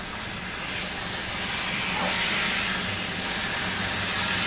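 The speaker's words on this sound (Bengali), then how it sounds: "এই শিম দিয়ে মশলার সাথে আর একটুখানি কষে নেবো।" Beans frying with spices in a pan, a steady loud sizzle and hiss from close by that builds slightly and holds through to the end.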